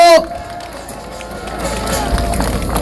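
After a short spoken introduction, an indoor audience applauds for speaker Kim Young-ja. The clapping starts thin and swells into a dense, steady wash by the end.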